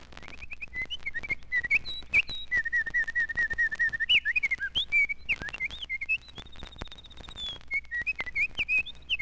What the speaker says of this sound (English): song of the winter wren